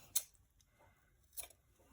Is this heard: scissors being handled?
yes